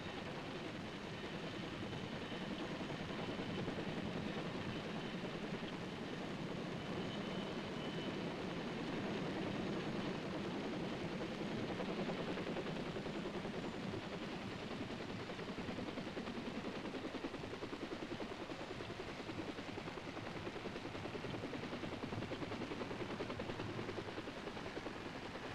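Loud, continuous US Army helicopter rotor noise in Vietnam, 1963, fills the whole stretch, a steady heavy thrum with no break and no voices.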